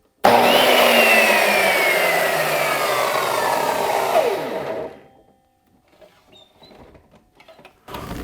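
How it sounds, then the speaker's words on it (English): A miter saw whines loudly through wood for about four seconds, its pitch sliding down as the blade spins, then the motor winds down to near quiet with faint handling noises. "I was met with a few challenges while using the miter saw"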